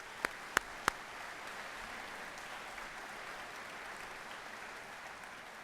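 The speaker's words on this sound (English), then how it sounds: "Please join me in thanking them with a round of applause." Audience applause at an event featuring the Premier of Ontario, a continuous faint wash of many hands clapping from a distance, with three sharp, close claps standing out at the start.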